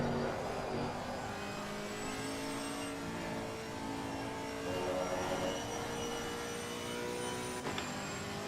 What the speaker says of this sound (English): Whitfield is coming through with his McLaren